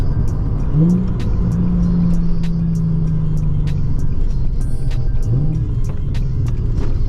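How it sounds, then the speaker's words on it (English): A Nissan 350Z engine blips sharply on a downshift, rising in a quick rev, sustaining a steady drone, then blipping again a few seconds later, heard loud and close from inside the car with a ticking clatter overhead. "Oh, downshift, that beautiful downshift."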